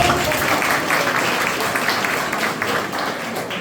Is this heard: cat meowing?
no